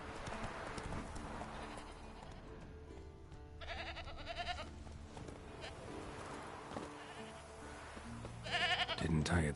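A goat bleats in the Witcher 3 game world amid hoof clip-clop and ambient game sound, with a few short cries over a steady background and a louder burst near the end.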